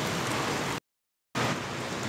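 Steady rain pours down outdoors, a dense, even hiss of drops hitting surfaces, broken by a brief dead-silent gap in the middle before the downpour resumes just as loud.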